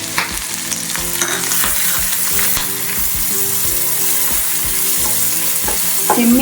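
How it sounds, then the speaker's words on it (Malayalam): Chopped onion, green chili and ginger sauté in butter in a pan for a paneer masala dosa. A steady, close sizzle fills the clip, broken by repeated scraping and stirring strokes. "ഇത് മൂന്നും കൂടെ നമുക്ക് ഇതിലോട്ട് ഇട്ട് കൊടുത്തൊന്ന് വഴറ്റിയെടുക്കാം"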